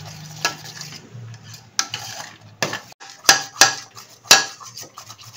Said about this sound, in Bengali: দেখো 2 মিনিট ধরে নেড়ে যাচ্ছি